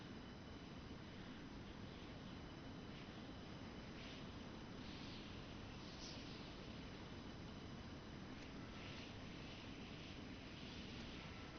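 A helicopter in a video game gives off a dense, steady rotor-and-engine rumble that stays loud and unbroken from start to finish, with no voices over it.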